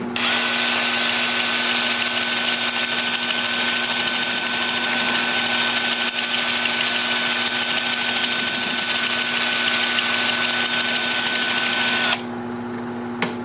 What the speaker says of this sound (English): Now with the lathe spinning in reverse at about 380.